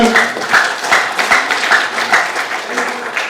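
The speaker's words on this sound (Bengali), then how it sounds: "জোর কম আরো জোরে তালি চাই" An audience at a Bangladeshi film-industry gathering claps loudly, sharp individual hand claps standing out in an uneven rhythm over a dense wash of applause, with faint crowd voices underneath.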